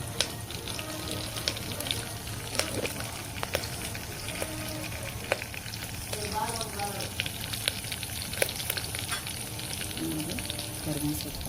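Curry leaves hit hot oil with cumin and mustard seeds for palak sambar, giving a steady crackling sizzle with sharp pops throughout, close and fairly loud, with faint voices in the background.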